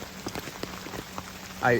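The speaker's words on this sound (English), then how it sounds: "It's starting to rain harder" Steady rain patters on hemlock leaves and the forest floor on a West Virginia trail, with scattered drops landing close by, ending in a brief louder rustle.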